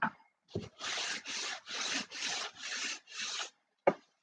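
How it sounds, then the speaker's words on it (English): Wood is sanded by hand with sandpaper for a model airplane turtledeck, making six even, rhythmic rasping strokes, close and clear, with light knocks at the start and end. "we'll just do this the old-fashioned way, sandpaper"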